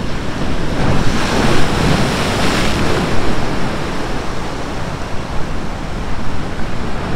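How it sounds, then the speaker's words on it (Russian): Heavy Black Sea surf at Foros, Crimea, rolls in with a constant loud roar, swelling and washing up close by, mixed with gusty wind noise. "Какой тут накат обалденный."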